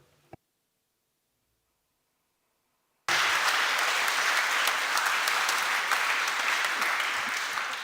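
Loud, sustained applause from a council planning committee audience bursts in suddenly after a near-silent pause and continues steadily to the end, dense and close.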